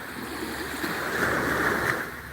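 Ocean waves washing onto a beach, a steady close hiss of surf rising slightly in the middle and continuing without voices.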